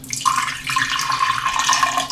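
Lemon juice poured into a jug, a close continuous liquid stream with bubbly splashing that runs steadily for about two seconds, with no voices.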